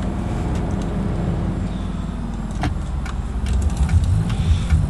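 A manual-transmission car in BeamNG pulls away from a green light after a clutch-and-first-gear start, its engine droning steadily and swelling louder toward the end as it accelerates, with no talk over it.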